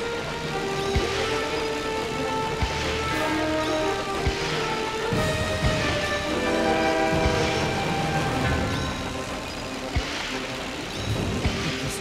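A train rumbles past, its horn sounding in long repeated blasts over steady rail clatter, loud and close with no talk.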